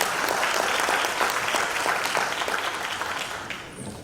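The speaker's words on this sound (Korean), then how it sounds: "박수로 환영해 주십시오." An audience at a Chongshin University development-plan presentation claps steadily to welcome a speaker, a dense, even round of applause that tapers slightly toward the end.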